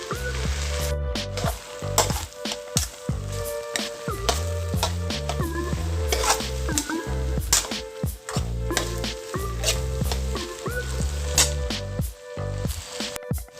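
Stale brown rice and barley stir-fried with dark soy for chicken fried rice, loud continuous sizzling broken by frequent scraping and tossing of a spatula in the pan, heard alone.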